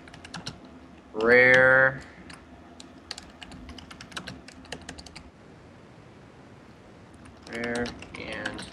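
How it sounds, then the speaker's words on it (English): Computer keyboard typing into a game chat during a prison server giveaway, heard as a few faint key clicks under scattered speech, with louder bursts of voice near the start and end. "first I'm going to type in chat so people know"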